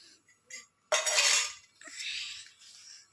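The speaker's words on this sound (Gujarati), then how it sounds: "વાસણ ઘસવાના મૂકી દીધા છે." Dishes and metal utensils being washed, with sharp clattering clinks in short bursts and a louder scrubbing clatter, close and intermittent with brief pauses between.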